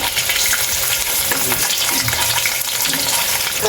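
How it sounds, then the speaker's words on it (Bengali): Eggs fry in a pan with a dense, continuous sizzle and crackle held close and loud throughout, joined by faint stirring sounds and no speech. "এতেও ডিমগুলো ভাজা হয়ে গেছে এখন হচ্ছে ডিমগুলো উঠিয়ে নিচ্ছে"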